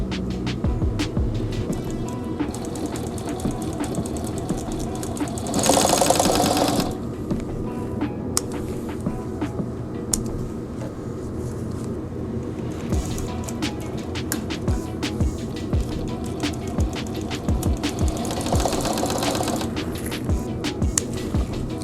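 Sewing machine stitching orange ostrich upholstery for a motorcycle seat, a close steady mechanical chatter running throughout with brief louder bursts of faster stitching.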